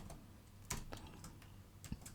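Code is typed on a computer keyboard in a few faint, scattered key clicks with gaps between them, close and quiet.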